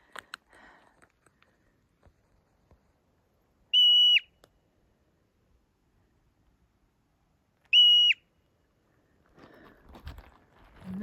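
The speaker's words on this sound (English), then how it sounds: "He's been whistling to a friend." On a Mount Rainier mountain trail, two loud, steady high whistles to a friend sound about four seconds apart, with faint footsteps and rustling around them.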